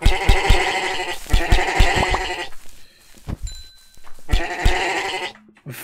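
Sheep in a Minecraft-like block game (MineClone2 server) bleat loudly in repeated bursts, two long stretches separated by a quieter gap, with no talking over them.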